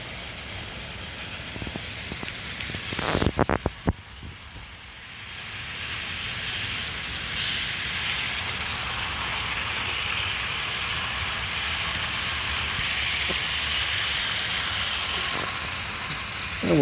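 An HO scale SD24 model locomotive pulls carnival passenger cars around a layout, giving a steady, hissing rumble of wheels on track that runs throughout the scene, with a few brief clicks and clatters near the start.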